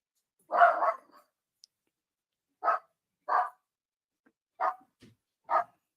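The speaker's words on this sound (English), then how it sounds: "That's our dog. He wants more action in the fight." A dog barks in the background during a live UFC fight watch-along, giving five sharp, evenly spaced barks with short gaps between them, moderately loud and clear against near silence.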